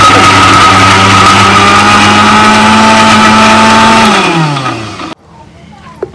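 A kitchen mixer grinder blending cashews and mint whirs loudly and steadily at close range, its motor pitch dropping as it winds down and stops, leaving a few small clicks.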